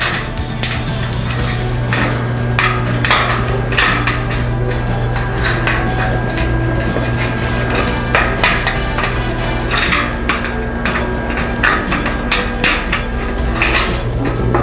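Steel stud being cut and folded by hand, a steady run of sharp metallic clicks and snaps at an uneven rhythm over a constant low hum, close up with no talk.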